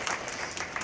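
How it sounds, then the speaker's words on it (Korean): Brief burst of audience applause at a public town-hall dialogue event in Seogwipo, Jeju, faint and dense clapping lasting under a second. "박수 한번 보내주시죠."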